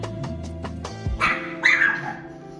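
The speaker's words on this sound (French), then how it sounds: "même le chien il en veut" A pet dog at home gives a couple of short, close barks, begging for a scrambled-egg, chicken and cheese sandwich, over a brief tonal background.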